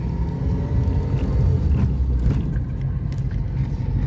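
A car drives along with a steady, close low rumble of engine and road noise, fairly loud and unbroken, with faint knocks over the top.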